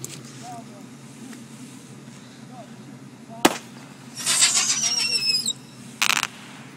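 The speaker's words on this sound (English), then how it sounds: "Dude, lighting off a firework." A firework lit outdoors by a group of friends gives a sharp bang, then a loud whistling, crackling burst with falling tones, and a final short crackle. Voices talk in the background throughout.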